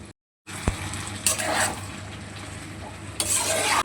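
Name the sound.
chicken being stir-fried slowly (koshano) in a pan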